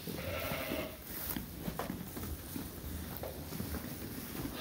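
Sheep in a barn at night give several faint, scattered bleats beneath a constant windy rumble and handling noise, fairly distant and hard to pick apart from the background.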